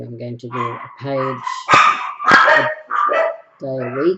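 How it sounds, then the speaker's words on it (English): Several dogs bark and yip sharply at neighbours walking near a garage, loud and close, mixed with whimpers, while a person talks over them. "Sorry about the dogs."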